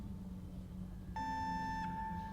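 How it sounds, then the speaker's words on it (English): An alarm in the horror game Penumbra Overture starts partway through, a steady high electronic tone over a low ambient hum. "Alarm going off."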